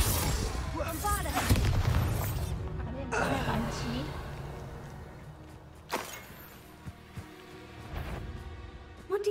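Bombarda blasting spells explode in the Hogwarts Legacy video game, several booming bursts spread across the clip with voices and battle noise underneath.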